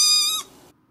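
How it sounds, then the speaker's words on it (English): A single short, high-pitched meow, bright and tonal, cutting off after a moment and leaving quiet behind it. "She just meowed."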